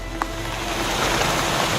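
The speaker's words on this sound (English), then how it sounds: "this rain doesn't show any signs of letting up anytime soon" Steady rain falls continuously at dusk during a thunderstorm, a dense broadband hiss with no pauses, fairly loud throughout.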